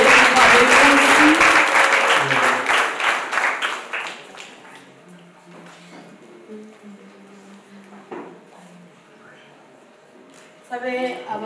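A wedding crowd claps for the day's hero in a loud burst of applause that lasts a few seconds and dies away, leaving quieter room sounds and voices, then a brief clatter near the end.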